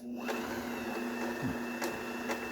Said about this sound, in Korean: 자 복신을 감도록 해야 되겠어요